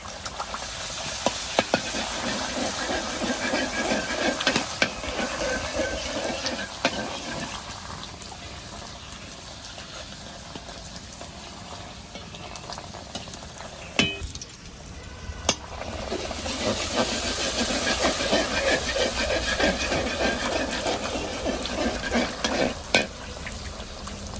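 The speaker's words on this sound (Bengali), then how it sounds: "কড়া করে ভেজে নিতে হবে, তাহলেই মুচমুচে হবে। দেখবেন তেলে দেওয়ার সাথে সাথে কত সুন্দর ফুলবে" Fuchka puris deep-frying in hot oil, a loud, continuous crackling sizzle with hissing steam and bubbling that briefly dips mid-way before swelling again, close and without talk.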